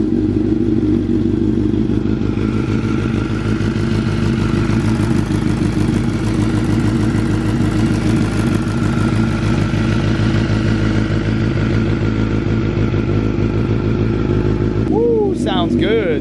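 A 2024 Suzuki GSX-R750 inline-four running on a base map through an M4 full exhaust, idling and revving with a deep, loud, steady drone that fills the whole stretch, close to the microphone, with brief mechanical clatter near the end.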